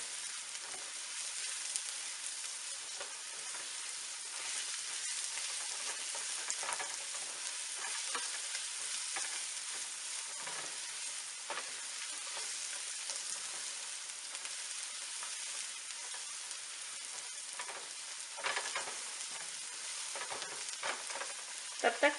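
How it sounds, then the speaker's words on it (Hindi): Garlic and ginger fry in onions in a pan, a steady bright sizzle with crackling pops throughout, continuous and close, with no talking. "लहसुन और अदरक को हमने 1 से 2 मिनट तक इसी तरह प्याज में फ्राई करना है।"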